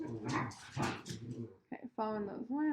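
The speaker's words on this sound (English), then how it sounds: "I don't know if you guys can hear the dog playing in the background" A dog whimpers and gives short high whines and yelps in the background at home, heard after and beneath someone talking close by.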